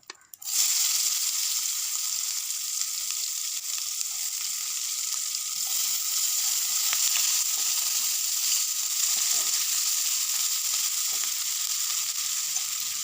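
Onions sizzle loudly in hot oil, a steady bright crackle that starts abruptly and continues without pause, with no voices.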